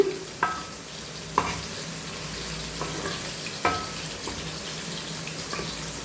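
Prawns fry in a pan as their water cooks off, a steady close sizzle broken by several sharp scraping stirs of the spoon against the pan, with no talking.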